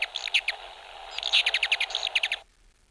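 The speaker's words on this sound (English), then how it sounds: "I forgot I had audio of that hummingbird noise" Played-back recording of a hummingbird call: a rapid series of thin, high squeaky chirps in quick bursts, fairly faint and unaccompanied by any voice, cutting off abruptly near the end.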